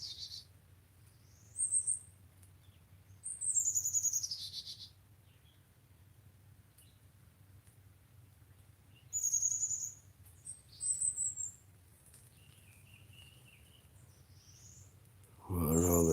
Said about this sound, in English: Little bird.